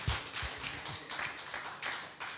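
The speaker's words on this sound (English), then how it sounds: "Give him a hand clap right now" Rhythmic hand clapping during a church sermon, about a dozen sharp claps in a steady beat, close and fairly loud.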